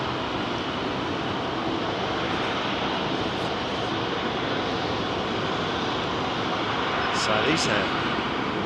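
GE-engined airliner departing London Heathrow runway 27R, a loud sustained roar of jet engines with broad rumbling noise, someone speaking briefly over it.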